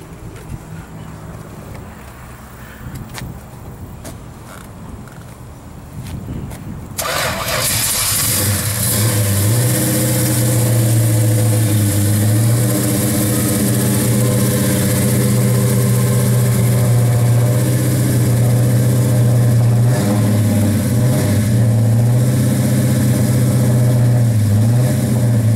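A 1968 Dodge Charger's 383 stroker V8 cranks and catches, then settles into a loud, deep rumble with repeated revs rising and falling, close by.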